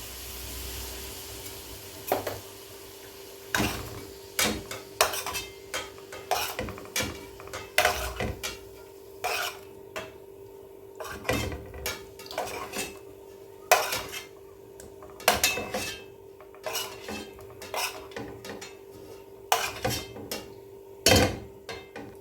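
Fried shrimp and calamari are lifted from a pan onto a plate, producing repeated sharp clinks and scrapes of utensils against cookware at an uneven rhythm, close and fairly loud, with a faint steady hum underneath and no talking.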